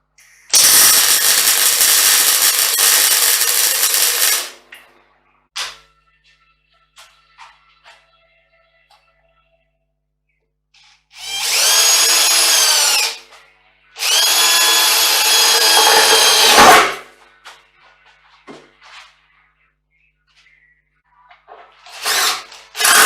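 Power tool driving wheel nuts while refitting a wheel on a 1963 Beetle: loud bursts of whirring and rattling impact noise, one long run then two more, separated by quiet pauses with small clanks.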